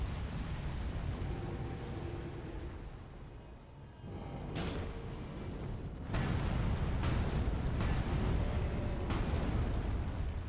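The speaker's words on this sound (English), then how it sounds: "there's the fire breath" An Elden Ring boss unleashes a fire breath attack, a roaring, rumbling burst of flame that swells loud with heavy booming impacts over a continuous blast.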